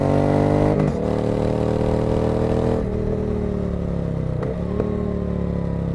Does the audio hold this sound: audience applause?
no